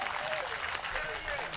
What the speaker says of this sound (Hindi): ताली बजाइए, एनर्जी मिलती है।